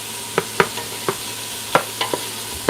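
Red onion and yellow pepper caramelizing in a pan on a home kitchen stove, with a soft steady sizzle broken by several sharp stirring clacks spaced through the moment, close and clear with no voices.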